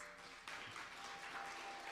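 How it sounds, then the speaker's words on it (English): An audience at a commemoration event applauds, a soft, steady wash of clapping heard from a distance, with a slight swell partway through. "Please give her a round of applause."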